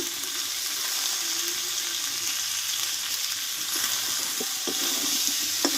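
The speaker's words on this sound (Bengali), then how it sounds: "এবার এখানে সেদ্ধ করে রাখা কাঁঠালটাকে ঢেলে দেবো আমি" Boiled jackfruit goes into a pan of frying spiced masala, producing a loud, continuous, close hiss of sizzling with faint wet bubbling and a few small knocks near the end, and no speech.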